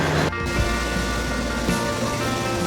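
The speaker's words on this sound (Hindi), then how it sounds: "ऊपर से जो नज़ारा आ रहा है वो ग्लेशियरों से बहता हुआ शुद्ध पानी है, और उसका बहाव इतना तेज़ है" Fast-flowing glacial river water near Ghangaria in Chamoli, Uttarakhand, rushing with a steady, dense roar that holds close and loud throughout with no pauses.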